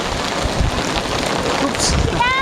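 Heavy rain pours steadily during a thunderstorm in Oslo, Norway, a dense close hiss with low rumbling underneath, continuous throughout without a break.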